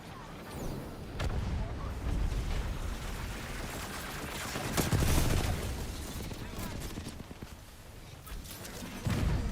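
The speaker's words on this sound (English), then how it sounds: "Alright, frag out." A grenade thrown and exploding in a first-person shooter game, a heavy boom near the middle of a steady wash of gunfire and battle noise, with players talking over it.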